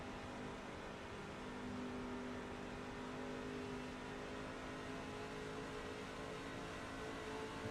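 A race truck engine drones steadily in a truck-series racing video game at Atlanta, a continuous mid-level hum that eases and swells slightly as the throttle changes, with no talking.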